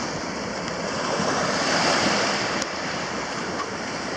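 Ocean waves wash onto a beach on Bastimentos Island, Panama, a broad continuous roar of surf that swells and eases, mixed with wind noise and no voices.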